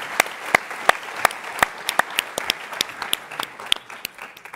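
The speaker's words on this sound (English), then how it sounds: "give them a round of applause." A small audience at a TechCrunch Startup Battlefield session claps in loose, uneven bursts, individual hand claps standing out sharply rather than blending into a continuous roar.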